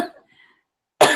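A single sharp cough bursts out loudly at close range after a near-silent pause, preceded by the tail of a faint voice or breath.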